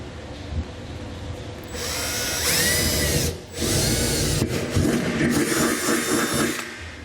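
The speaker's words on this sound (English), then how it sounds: "So I'm first going to use a small bit and drill a pilot hole." A power drill with a small bit whines at high pitch in two bursts, drilling a pilot hole, briefly easing between them, with a rising and falling motor tone as it bores into material.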